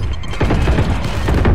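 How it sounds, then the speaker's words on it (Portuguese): Loud, dense burst of explosive booms, including a grenade explosion, and crackling gunfire in Valorant, continuous and close. "Granada!"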